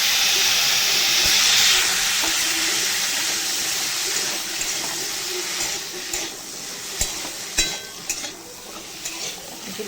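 Cumin and mustard seeds splutter in hot oil as poi greens fry, a loud continuous sizzle and hiss broken by sharp pops and crackles that grow sparser toward the end.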